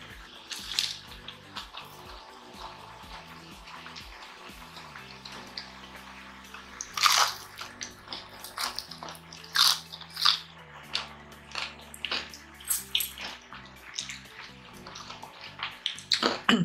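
Close-up crunchy bites and chewing of fried lechon kawali pork belly at a Filipino mukbang meal, repeated crisp crackles through the clip alongside a faint background hum, with no talking.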